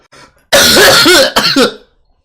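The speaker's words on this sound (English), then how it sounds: "And now begins the coughing." A harsh, loud throat-clearing cough, then a second rougher cough burst, close up, with a faint sound before it.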